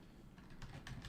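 Computer keyboard typing during a cryptocurrency trading livestream, a short run of quick clicky keystrokes over a low background hum, close and moderately loud.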